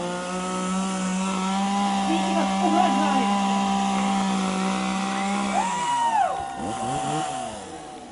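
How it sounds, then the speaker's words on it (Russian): Rescuers' petrol chainsaw cutting through a fallen tree blocking a road: a loud, steady engine whine that drops and shifts pitch midway as it bites into the wood, with someone talking over it. "с помощью бензопилы наши спасатели быстро устраняют эту чрезвычайную ситуацию"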